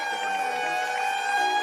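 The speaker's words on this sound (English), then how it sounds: "And you can hear the siren in the background from Ben Carley's grandfather." A steady siren wails with sustained tones, loud and continuous, with a busy sports event crowd beneath it.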